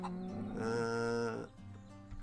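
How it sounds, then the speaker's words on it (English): A goat in the video game Bastide lets out a single drawn-out bleat lasting about a second, clear and close, followed by a low ambient hum. "What are you? You're a goat."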